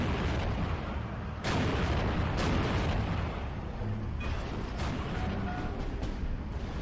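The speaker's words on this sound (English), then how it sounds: "A couple of bombs coming in from an LA." Aircraft-dropped bombs explode in a Steel Division 2 battle at Slutsk, a continuous rumbling barrage of loud deep booms with several sharper bursts standing out, no talk.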